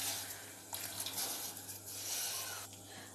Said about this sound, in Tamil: சிறிதளவு தண்ணி ஊற்றுறேன்.